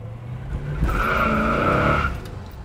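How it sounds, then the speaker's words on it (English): A 1970 Plymouth Road Runner's engine revs at half throttle, a steady, loud, close roar that swells and holds for about a second before easing off, with no voices. "accelerator works just fine. That was half throttle."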